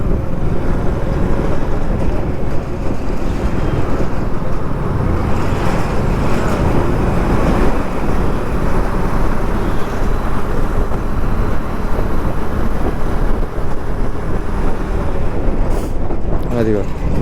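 Heavy road traffic heading toward Uppal Ring Road in Hyderabad, heard from a moving bike: a steady, loud wash of engines and road noise with a dense low rumble, continuous throughout, with a brief higher hiss near the end.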